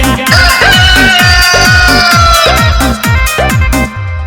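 Rooster crowing set into a Bhojpuri-style New Year song, with repeated crows rising and falling in rhythm over a loud, dense musical backing.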